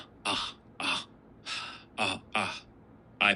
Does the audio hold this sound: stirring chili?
no